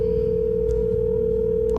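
A steady telephone dial tone hums without a break as a call is placed, loud and close, with no one speaking.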